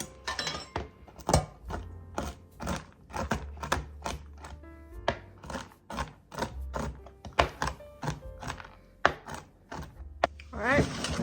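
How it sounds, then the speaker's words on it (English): Almonds being roughly chopped with a knife on a board, a rapid series of crisp, close thunks in uneven rhythm, repeated steadily with brief pauses. "I am going to do a rough chop."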